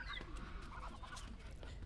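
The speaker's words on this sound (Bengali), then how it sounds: "আর এখানে আমার মুরগিগুলো দেখেন কতগুলো মুরগি।" Chickens clucking in a farmyard, soft intermittent calls over steady low background noise, with no talk.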